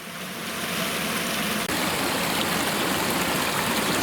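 Steady rushing of Deer Cove Creek flowing continuously at a trail crossing, a full broadband wash with no voices, close and fairly loud throughout.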